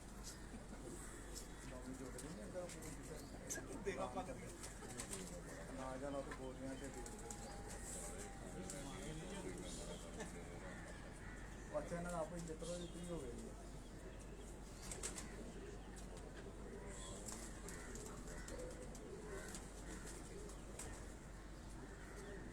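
Tonsi pigeons cooing at a home loft in Lahore, soft repeated coos with wing flaps and scattered chirps, continuous and moderately near, mixed with people talking and background bustle throughout.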